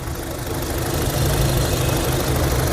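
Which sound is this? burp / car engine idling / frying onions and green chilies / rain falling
car engine idling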